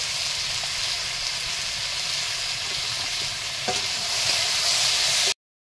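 Spiced sand goby fish curry with green chillies, turmeric and salt sizzles steadily in a hot pan, with stirring strokes scraping through the continuous frying hiss and a brief clatter near the end before it cuts off.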